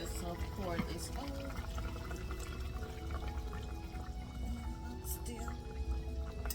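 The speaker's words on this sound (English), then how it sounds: "So we're gonna just pour this out." Liquid pours and splashes into a pot of bubbling oxtail, close and continuous, with talking over it.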